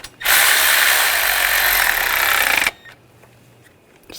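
A ratchet snugs down the thermostat housing bolts on a 2000-2006 BMW X5 3.0L inline-six, giving a loud, continuous rapid clicking up close for over two seconds, then quieter faint handling noise.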